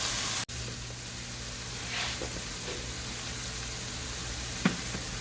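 Rice goes into a pan of frying ham and peas, raising a steady close sizzle after a sharp click at the start, with a few soft stirring scrapes.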